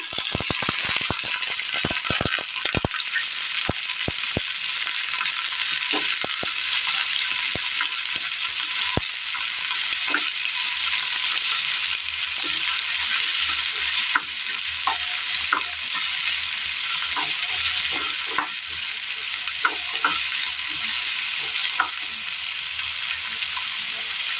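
Onion and eggplant fry in a pan for Kerala mezhukkupuratti, a bright continuous sizzle broken by frequent clicks and scrapes of stirring, close and steady throughout.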